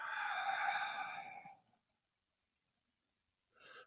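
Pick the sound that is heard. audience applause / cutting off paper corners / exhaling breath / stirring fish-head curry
exhaling breath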